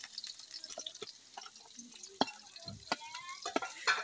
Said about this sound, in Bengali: তেলগুলো গরম করে নিল, আর পেঁয়াজগুলো ছেড়ে দিতেছে কড়াইয়ের মধ্যে